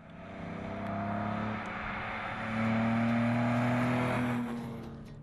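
A classic MGC GT Sebring racing car's engine revs steadily, its rising harmonic drone swelling louder midway, close and sustained with no voices.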